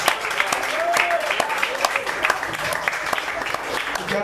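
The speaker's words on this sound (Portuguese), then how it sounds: "Aplauda Jesus bem forte." A church congregation at a missions service claps loudly and steadily, dense applause filling the space while a voice calls out over it.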